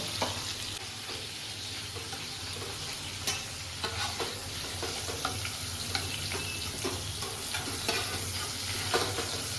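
Chicken for butter chicken sizzles and crackles in a hot pan, a constant frying hiss with occasional scrapes and stirring clinks, close by and without talk.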